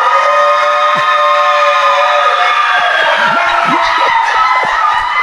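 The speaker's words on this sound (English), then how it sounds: "Black folks, make some noise." A comedy club audience at a stand-up show cheers, whoops and shouts loudly in a dense, continuous roar of many voices that swells toward the end.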